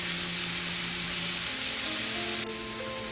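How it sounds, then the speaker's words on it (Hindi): Shrimp deep frying in hot oil for a dynamite shrimp appetizer, a dense, loud, continuous sizzle with bubbling close by, no talk. "नाइस गोल्डन कलर आने तक हमें फ्राई करना है।"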